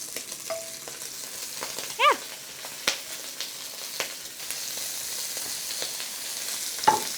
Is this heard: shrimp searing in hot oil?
yes